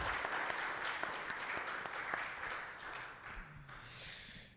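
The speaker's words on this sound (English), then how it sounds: "let's give it a round of applause" Audience applause follows a panel discussion on evil and suffering, a steady wash of many hands clapping that gradually tapers off toward the end.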